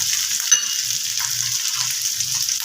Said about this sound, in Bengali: এই আদাটা দেবো বলেই আমি তেলের মধ্যে একটু হলুদ দিয়ে নিলাম